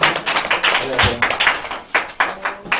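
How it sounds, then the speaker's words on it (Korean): A group claps briefly in uneven, overlapping bursts during a children's church worship service, close and fairly loud. "박수"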